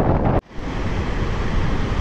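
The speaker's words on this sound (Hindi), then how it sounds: "गाइस देखो कितना ख़तरनाक ये पानी का बहाव" Water rushes loudly from the opened gates of Bargi Dam in Jabalpur, all 22 gates released, a dense, continuous roar close at hand with wind buffeting the microphone and a brief drop near the start.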